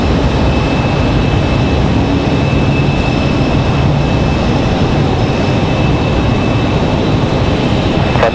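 Jet airliners at Raleigh Durham airport, including an Air France jet, prepare for departure, filling the air with a loud, steady engine roar and a thin whine held throughout.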